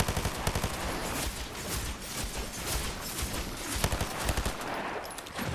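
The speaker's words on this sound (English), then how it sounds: "Taking pop shots from above" Dense gunfire from a Fortnite competitive match, shots fired from above in rapid bursts that blend into a continuous loud clatter with no breaks.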